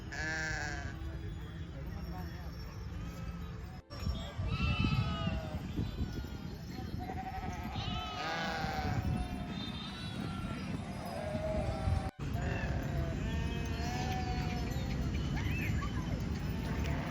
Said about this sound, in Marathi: हे बघा इकडे मेंढर पाहू शकता तुम्ही